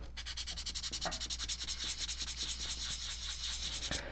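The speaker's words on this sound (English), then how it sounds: "I'm just going to do just a real quick buzz. I'm not going to do a heavy sanding on this stuff." Quick, light hand sanding scuffs across the primed surface of a model, a fast rhythmic rasp of short back-and-forth strokes, close up and soft, with no talking.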